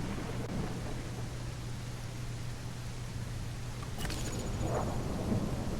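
Thunderstorm in The Isle Evrima dinosaur survival game: a steady wash of rain-like noise with a low rumbling hum throughout, and a brief sharper crack near the end.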